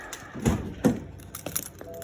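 A bunch of car keys for an F30 jingles and clinks in a few quick, close bursts over about two seconds, with short gaps between the rattles.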